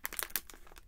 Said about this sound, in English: I think I'm going to cut the top off of this